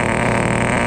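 A Kyosho FW-06 nitro RC car engine idles on a table in freezing cold, a steady, loud, close buzzing hum with no pauses.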